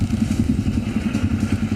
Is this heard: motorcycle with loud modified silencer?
yes